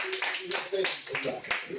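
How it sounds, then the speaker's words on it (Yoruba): Applause from an audience at a Yoruba-language quiz competition: a burst of hand clapping mixed with talking voices, rising and falling in short waves. "Àtẹ́wọ́"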